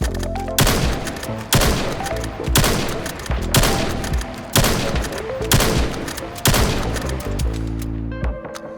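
Rapid bolt-action rifle fire in a VR shooting game, with about eight loud, booming shots spaced roughly a second apart. Each blast rings out and decays briefly before the next, and metallic clicks from the bolt come after the final shot.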